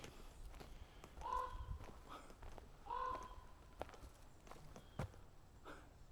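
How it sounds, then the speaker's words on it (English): A raven calls twice with hoarse croaks on a forest hiking trail in Tåtøy, Norway, faint and at middle distance, while footsteps crunch close by throughout. "That's a raven."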